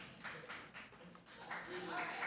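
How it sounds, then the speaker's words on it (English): Scattered clapping from a live audience at a geek-culture talk show, faint and brief, rising in bursts with some voices mixed in. "You hear that? We got applause."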